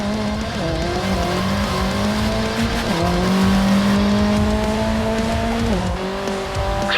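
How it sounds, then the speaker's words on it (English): A race car engine roars loudly on a straightaway in the Racing Master video game, a continuous high-revving whine that climbs through the gears with brief dips at each shift. "A straightaway. Punch the throttle and let the engine roar."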